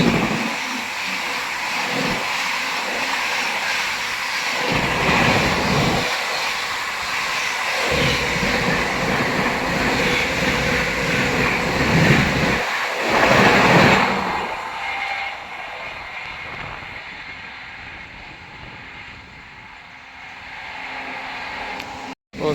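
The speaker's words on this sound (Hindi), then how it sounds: "पीछे से आ रही है तेजस राजधानी, भुवनेश्वर तेजस राजधानी" The Bhubaneswar Tejas Rajdhani Express rushes past at close range: a loud, steady roar of wheels and carriages with rhythmic bursts, easing after about fourteen seconds into a quieter fading rumble.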